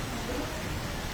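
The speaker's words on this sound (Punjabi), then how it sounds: "ਬਹੁਤ ਤੇਜ਼ ਬਾਰਿਸ਼ ਹੈ" Heavy rain pouring during strong wind in Abohar, a dense continuous broadband wash of rain noise, close and steady with no voices.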